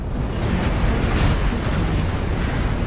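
An incoming missile strikes a mech in the MechWarrior Online video game, heard as a loud, continuous roaring blast and rumble that fills the whole clip with no clear gaps.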